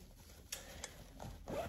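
Zipper on a gauzy summer makeup pouch, pulled in a few short rasping strokes, close and fairly quiet with faint handling noise between.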